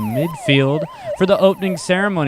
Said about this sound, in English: That's the siren, which means we're about to get ready for the player introductions